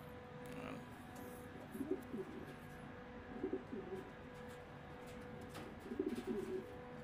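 Pigeons coo softly in a few short, throaty bursts against a quiet background hum, with faint chirps here and there.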